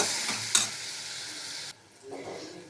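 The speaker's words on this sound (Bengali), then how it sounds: "জল দিয়ে এটা ভালো করে কষিয়ে নেব।" Masala being stirred and fried in a pan with a little water for a loach fish curry, a steady sizzle with scraping stirs and one sharp clang, then quieter frying near the end.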